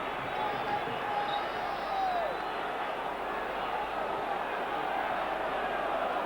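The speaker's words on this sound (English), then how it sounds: "the crowd getting behind Rangers here." A dense, roaring football stadium crowd backing Rangers in a Champions League match on a wet night in 1992, a steady wall of cheering and chanting that carries on throughout without a break.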